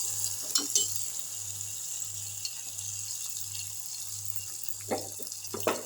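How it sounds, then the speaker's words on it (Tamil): Hot fried tempering poured into mashed amaranth greens for a village-style keerai kadayal sends up a continuous close hiss of sizzling, with a few sharp knocks and stirring clatters near the end. No one speaks. "இந்த கீரையில் ஊற்றிட்டு நல்லா ஒரு கடை கடைஞ்சிருவோம்"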